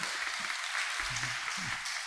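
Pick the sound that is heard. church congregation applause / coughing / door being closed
church congregation applause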